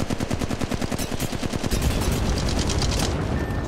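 Rapid automatic gunfire in Apex Legends Mobile, a fast, even rattle of close, loud shots for over a second, then continuing as a denser wash of firing and impacts, with no talking.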